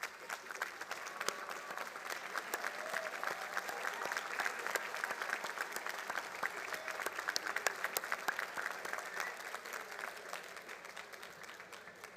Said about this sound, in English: give a round of applause to your family and friends